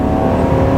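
A car accelerates hard at full throttle from a standstill in a 0-to-60 run, a loud, steady engine roar filling the brief moment.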